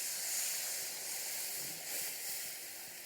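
Fried fenugreek pakoras hit a pot of hot spicy curry with a loud, steady hiss of steam and sizzle that fades slightly over a few seconds, no voices.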